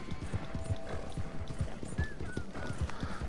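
Steady rhythmic clip-clop of horse hooves in Red Dead Redemption 2 Online, close and even-paced, with faint whinny-like tones in the background.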